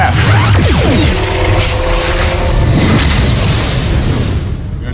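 A Klingon warship firing its forward weapons in the Star Trek Klingon Academy game, a loud sustained roar of booming blasts and sweeping whooshes, close and dense, easing slightly at the end.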